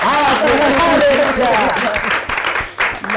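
Audience at an African music and variety broadcast applauding, scattered clapping beneath loud voices and sung or shouted sounds that dominate most of the moment.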